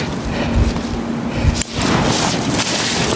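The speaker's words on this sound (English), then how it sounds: "particularly with this edge where the wind is coming from" Wind gusts against a tent's edge outdoors, making rough buffeting rumbles and fluttering noise that surge and dip, loud and close to the microphone, with no speech.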